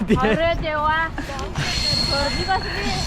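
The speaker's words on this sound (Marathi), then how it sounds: "ही आमची ट्रेन आलेली आहे" A crowded passenger train pulls in, its wheel squeal and steady rail rumble running throughout while people talk over it close by.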